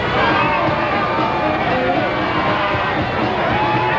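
Dense crowd noise along the Rex Parade route at a 1989 New Orleans Mardi Gras, with steady cheering and babbling voices filling the whole stretch, loud and close.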